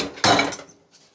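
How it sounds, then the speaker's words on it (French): A home dishwasher shut with one quick clattering thud of the door and rattling dishes inside, close and loud, fading fast into quiet. "Tu peux fermer le lave-vaisselle?"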